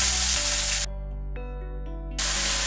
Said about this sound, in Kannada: ಈರುಳ್ಳಿ ಸ್ವಲ್ಪ ಟ್ರಾನ್ಸ್ಪರೆಂಟ್ ಆಗಲಿ ಅಲ್ಲಿವರೆಗೂ ನಾವು ಫ್ರೈ ಮಾಡೋಣ